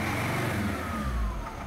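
A car engine with a faulty fuel injector revs loudly and close by, a rough mid-pitched drone with a pitch sweep that stays capped, no voices over it.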